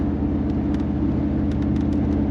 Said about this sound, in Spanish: Sonido es espectacular del motor.